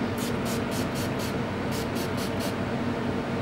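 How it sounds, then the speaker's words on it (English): A series of short hissing bursts of makeup setting spray onto a face, five quick puffs, a pause, then four more, close up against a steady background hiss. "I'm just going to spray my face with some setting spray"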